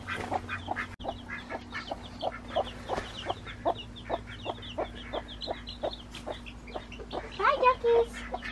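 A hen with seven small chicks clucks and peeps in a steady run of short, close calls over a faint constant hum, with a few louder calls near the end.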